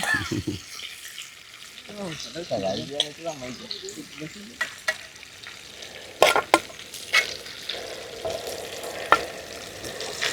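Prawns and shallots frying in hot oil for a roast, sizzling steadily while a spoon stirs and scrapes the pan in sharp clattering bursts, close and fairly loud, with a brief voice early on.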